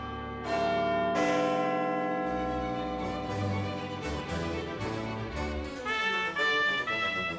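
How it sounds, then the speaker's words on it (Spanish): Big Ben's bells in London ring out loud and resonant, several struck tones overlapping with long sustained harmonic decay, alone with no talk. "Elevándose sobre todo el Big Ben, cuyas campanas todavía tañen cada cuarto de hora."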